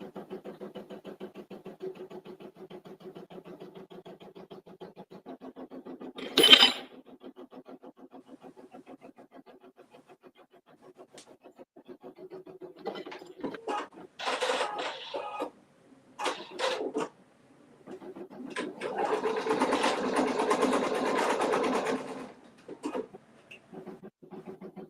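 A 4x4 embroidery machine stitches an in-the-hoop mug rug, its steady mechanical whir running throughout at moderate level, with louder bursts of stitching toward the end and a sharp click partway through.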